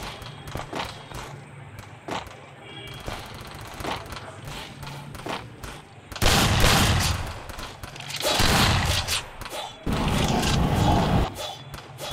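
Gunfire from an M1887 shotgun in the game Free Fire, with sharp blasts and impacts at first and then loud sustained bursts of fire in the second half, mixed with thuds and footsteps.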